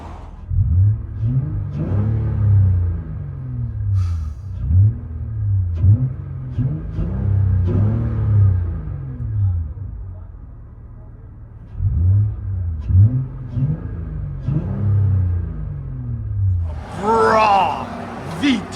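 Interior sound of a 2019 Honda Ridgeline Sport with a 3.5L V6 and Yokama exhaust: a deep engine drone rising and falling through several rev cycles, with a brief quieter lull and a higher whir near the end.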